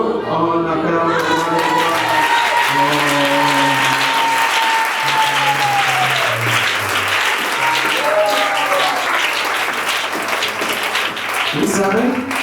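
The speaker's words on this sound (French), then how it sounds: "Oh, on acclame." A church audience bursts into sustained, loud applause that keeps going for many seconds, with a voice speaking or singing over the clapping.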